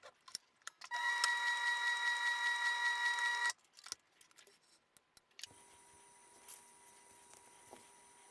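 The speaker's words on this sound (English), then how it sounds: "Sew the middle part of the reading glasses pocket." A sewing machine stitches the middle of a reading glasses pocket accessory in a fast steady run of a couple of seconds, followed by clicks, handling noise and a quieter mechanical whir.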